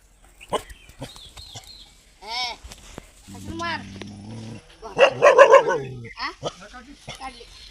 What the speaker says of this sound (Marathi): तुम्हाला कुत्रा दाखवायला